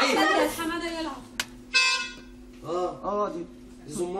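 A toy horn gives one short, bright, buzzy honk amid lively conversation, with people talking loudly and excitedly before and after it.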